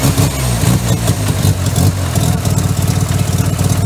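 A Mazda RX-7 FD rotary engine, freshly tuned on a Haltech Elite, idles loud and close with a choppy, lumpy pulsing rhythm that runs steadily throughout.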